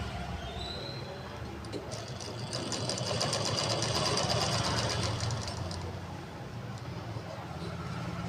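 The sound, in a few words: sewing machine stitching blouse lining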